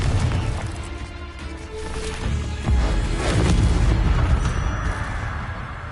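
In Hogwarts Legacy combat, a Confringo spell lets off a loud, rumbling fiery blast that swells and churns for several seconds, a dense roar of game effects with no clear talk over it.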